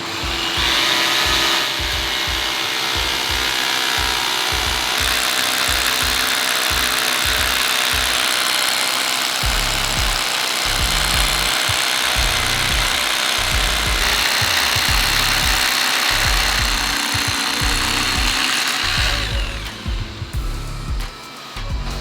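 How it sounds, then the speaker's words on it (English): A big, loud drill bores anchor holes into concrete continuously for about twenty seconds, with rhythmic low thumps and rumbles beneath the whine, close by. "Get those holes drilled in the ground so we can really anchor the mill into the concrete"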